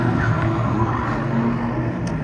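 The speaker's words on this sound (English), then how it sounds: "This sound is because the ambient temperature is very cold, and they make that sound from the tire." Ferrari Challenge race cars at the Las Vegas Grand Prix circuit in cold weather, engine roar with tires squealing and sliding through a corner, loud and continuous for a couple of seconds.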